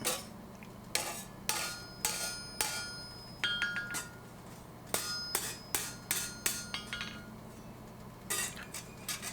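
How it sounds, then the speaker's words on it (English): Hammer blows driving a pritchel through a punched hole in hot steel while forging a Viking age pan, sharp ringing metallic strikes in uneven bursts, some single and some rapid doubles, close and clear with no talk. "I can ram it in there good and far, get that hole drifted out"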